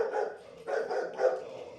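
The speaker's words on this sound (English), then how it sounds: "now the dog's barking at the door" A dog barks at a door, three loud close barks in quick succession with short gaps, heard alone without talk.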